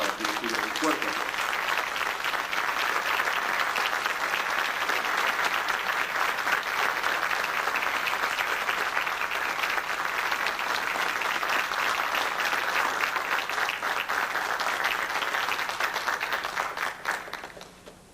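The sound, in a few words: audience applause at a congress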